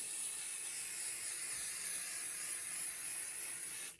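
A spray can hisses in one continuous, steady light burst onto fabric batting for about four seconds, close by, then cuts off abruptly.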